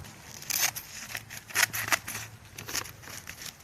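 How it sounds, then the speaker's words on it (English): Scissors snip repeatedly through garden landscape fabric, cutting an X shape in a garden bed; a run of close, crisp cuts in uneven bursts, with no talking. "just cut an X in the fabric like so"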